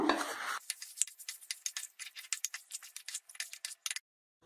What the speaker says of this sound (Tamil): எல்லாத்தையும் நல்லா கலந்துக்கோங்க.